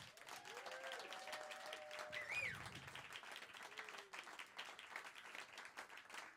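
Audience clapping at a 20th anniversary live music event, a fairly faint, continuous spread of handclaps with a few brief tonal whistles or squeaks mixed in early on.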